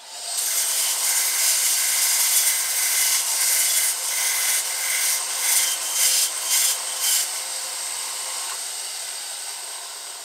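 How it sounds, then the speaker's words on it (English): A wooden part for a carved ventriloquist dummy is sanded by hand, a loud close rasping scrub in a quick run of strokes that ends abruptly, leaving a faint hum. "Maybe sand it down just a little more."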